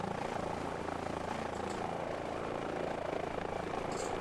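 Airbus H145 helicopter in Microsoft Flight Simulator 2024, a steady, close rotor and turbine drone that holds evenly throughout with no talk.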